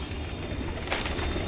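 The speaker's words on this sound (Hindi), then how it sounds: "कबूतर उड़ने के लिए अभी तैयारी कर रहे हैं अपनी।" Pigeons cooing in a loft, soft low throaty coos repeating close by, with some rustling and a brief brighter flutter midway.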